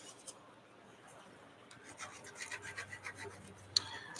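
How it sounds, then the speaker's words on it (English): Plastic buildup being scraped off injection molds, a faint dry rasping that grows into a quick run of short scratchy strokes near the end, close and quiet with no talking. "I scraped the molds."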